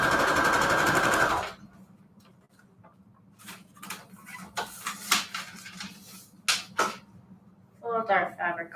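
A sewing machine stitches fabric onto receipt paper in one loud, fast, steady whir for about a second and a half, followed by quieter clicks, taps and paper rustling.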